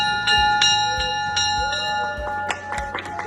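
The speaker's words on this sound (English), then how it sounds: "Ringing that bell," A handheld bell is rung to mark the end of cancer treatment, giving a series of bright metallic strikes with long ringing tails, several quick clangs in a row that grow busier toward the end, and faint murmuring from people nearby.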